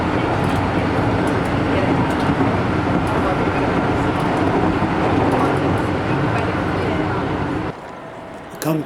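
A steady, dense roar of crowd and station noise fills the concourse of Kyoto railway station, a constant wash of low rumble and murmuring voices that drops suddenly near the end.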